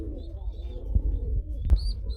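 High flyer pigeons coo softly in low, murmuring tones, with a faint chirp and a sharp brief click partway through, fairly close and otherwise alone.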